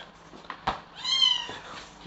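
A pet cat gives a single clear, rising-and-falling meow at close range, preceded by a couple of faint soft noises, in a quiet room with no talk.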